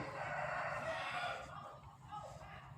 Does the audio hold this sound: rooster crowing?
yes